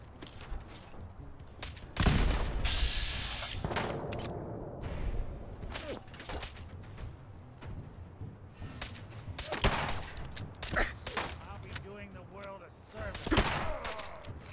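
Assault rifle gunfire in Fallout 4 comes in repeated sharp bursts and rapid volleys, some loud and close, others quieter, with someone talking in between and over the shooting.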